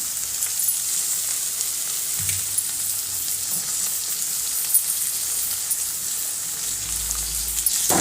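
Tomatoes sauté with mint in a pan for a meal maker gravy, producing a steady, close frying hiss with occasional light stirring clinks throughout and no voices.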